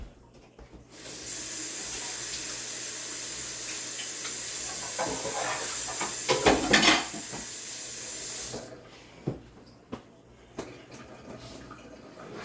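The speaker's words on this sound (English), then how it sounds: "Wash me hand again." Hands being washed under a running kitchen tap during Sunday dinner preparation, a steady close hiss of flowing water for about eight seconds with louder splashing near the middle, then stopping into a few faint clinks and drips.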